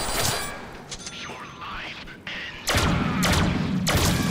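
Gunfire in the Deadpool video game, a run of loud, sharp broadband shots bursting in the second half after quieter game sounds, with voices talking underneath.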